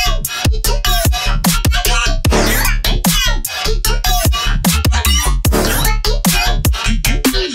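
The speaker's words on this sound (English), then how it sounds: "what I did is I just resampled the previous section and then pitched it up and then threw it on the same chain" A resampled section of an electronic song, pitched up and run back through the same effects chain, plays loud and dense with choppy, rapid chopped stabs and squealing, cluck-like pitched bursts, without talk.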